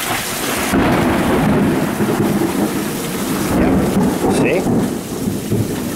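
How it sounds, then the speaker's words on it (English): Thunderstorm outdoors at night, with a steady wash of heavy rain and deep, rolling rumbles of thunder swelling and fading throughout, loud and continuous with no talking. "the storm blew up as a result"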